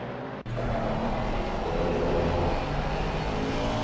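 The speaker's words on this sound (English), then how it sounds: "I must say, I also quite like the sound" An Aston Martin race car in a sprint race at Barcelona roars past with a loud, sustained engine drone that holds steady after a brief dip near the start.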